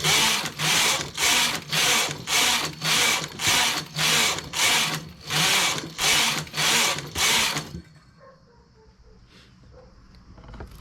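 A knitting machine works rows of plain stockinette for a glove cuff, its carriage passing back and forth in about twelve rhythmic, loud whooshing strokes, then stopping before faint clicks and handling sounds.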